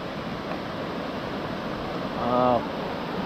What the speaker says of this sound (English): Oh, there's rapids down there.